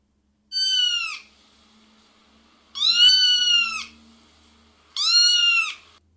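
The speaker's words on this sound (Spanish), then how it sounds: "el maullido de un gato es algo débil que podemos escuchar y no nos molesta" Three distinct meows from a cat, each about half a second to a second long with rich harmonic tone, spaced a couple of seconds apart in an otherwise quiet room.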